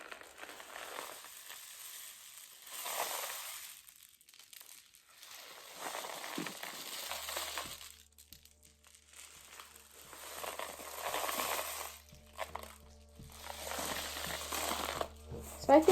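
Homemade rainstick made of a foil-lined tube filled with pasta, beans and rice, tipped back and forth so that waves of dry rattling and hissing rise and fade. A low steady hum joins partway through.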